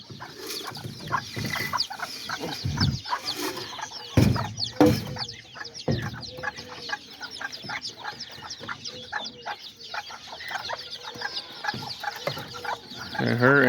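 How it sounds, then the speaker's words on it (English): Small serama chickens cluck and chatter continuously in a backyard flock with a hen and her chicks, a few louder bursts and thumps standing out against the steady background of bird calls. "this is the chicken I showed you guys on my last video"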